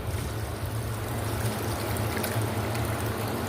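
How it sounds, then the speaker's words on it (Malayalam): Water poured into a cooker while a spicy chicken curry is made with chilli powder, garam masala, coriander powder and sunflower oil; a steady, soft trickling pour runs continuously and fairly quietly throughout. "പിന്നെ വെള്ളം ഒഴിക്കാം."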